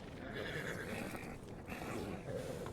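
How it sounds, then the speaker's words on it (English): A donkey brays in a loud, rasping, rhythmic cycle of wheezing inhales and honking exhales, fairly close and heard alone. "I heard the donkey"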